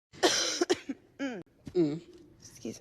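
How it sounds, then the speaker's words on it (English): A person coughs in a few harsh, close bursts, with throat-clearing and brief voiced sounds in between. "No, I was coughing."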